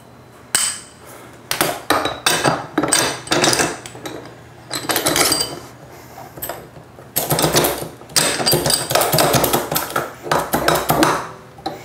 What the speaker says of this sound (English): I'm just going to go ahead and turn this collar here down